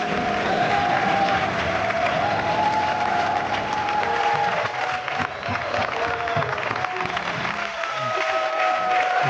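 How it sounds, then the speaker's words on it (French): Audience applause from a crowd, sustained and dense for several seconds, dipping briefly midway before swelling again, with voices and a few cheers mixed in. "Applaudissements encore pour la belle magnifique."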